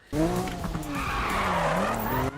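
A Toyota Supra drifting with the handbrake in Need for Speed 2015, a sudden loud tire skid over a revving, wavering engine, sustained for about two seconds before cutting off.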